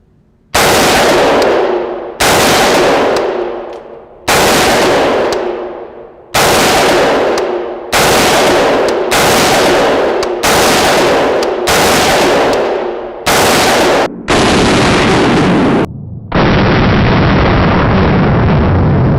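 A Colt Commando AR-15 clone rifle fires reloaded rounds in about ten loud, close single shots at a steady pace, each ringing out briefly before the next, with no talk.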